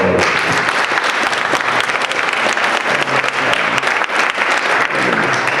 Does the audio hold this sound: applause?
yes